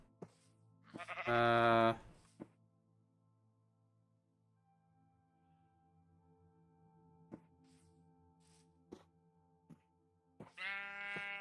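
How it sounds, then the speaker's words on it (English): Minecraft sheep bleating in a video game, one loud bleat near the start and another at the end, with faint game clicks and a brief mumble between them. "That's a pink sheep or is that purple?"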